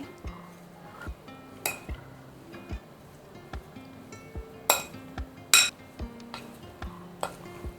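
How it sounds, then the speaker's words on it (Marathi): A spoon stirs salt into a fresh turmeric and amla pickle, making soft, sporadic clinks and scrapes against a bowl with a few brighter knocks, fairly quiet and unaccompanied. "साधारण दोन चमचे पूर्ण लागेल आपल्याला मीठ तर हे मिक्स करून घेऊया आधी"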